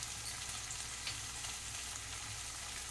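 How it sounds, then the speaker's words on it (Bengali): Spices spatter and fry in hot oil in a pan while cooking a Bengali doi potol curry, a faint, steady crackling hiss with small pops throughout and no voices. "প্রচণ্ড ছিটকে যাচ্ছে"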